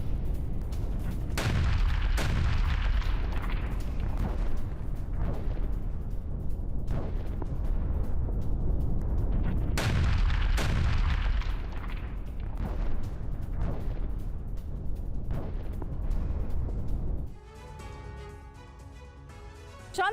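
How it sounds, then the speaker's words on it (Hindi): Heavy explosions from an Israeli air strike on Hezbollah positions in the Al Qayam area of southern Lebanon boom and rumble in repeated blasts over a continuous roar, before a brief tonal tail at the end. "आईडीएफ के हवाई हमले में हिजबुल्लाह के ठिकाने तबाह हुए हैं।"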